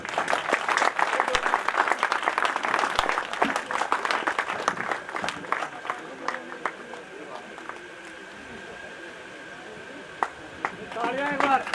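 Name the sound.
loud applause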